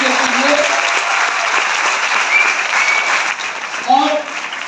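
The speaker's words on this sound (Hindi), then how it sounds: "जोरदार ताली होना चाहिए इंडियन महाराष्ट्र एसोसिएशन के लिए।" Loud applause for the Indian Maharashtra Association at a program in Mumbai, a dense, sustained roar of clapping with a few voices calling out over it.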